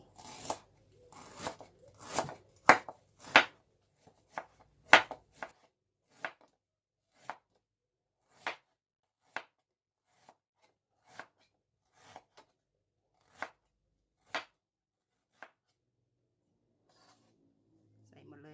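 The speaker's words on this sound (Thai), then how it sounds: "หั่นเข้าไปเลย" A knife chops on a board, a rapid burst of close, sharp cuts that slows into single, evenly spaced chops before fading out.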